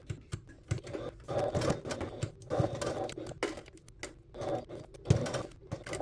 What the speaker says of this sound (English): pivot my needle or my foot as I continue top stitching around the pieces